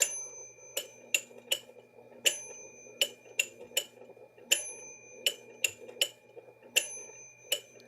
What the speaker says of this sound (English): if I click the 3, we're going to hear 2 against 3 and a big bell